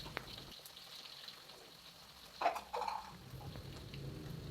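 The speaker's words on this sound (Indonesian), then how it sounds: "Aku goreng dagingnya gitu teman-teman, biar lebih gurih." Boiled beef frying in a wok for Padang-style dendeng balado, a low crackling sizzle with a few sharper pops and stirring clatters near the middle, with no talking.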